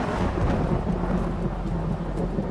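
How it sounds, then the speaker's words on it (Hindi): Heavy rain pours through a forest while thunder rumbles low and heavy, a continuous storm effect in an audio drama with no voices. "जंगल में तेज बारिश की वजह से बॉनफायर बुझ चुकी थी।"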